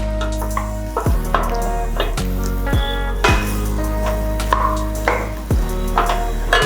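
Native vegetables sautéed in a pan, with repeated spatula knocks and scrapes against the metal over a light sizzle, close and fairly loud, several distinct thumps across the stretch.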